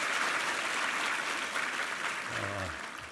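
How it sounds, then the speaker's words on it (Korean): A church congregation applauds the second choir with dense, continuous clapping that fades slightly, and a brief voice rises near the end. "우리 위정민 지휘자 2부 성가대 힘차 한번 격려의 박수 부탁합니다"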